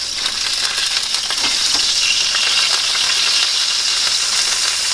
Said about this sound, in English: Sizzle, sizzle, sizzle.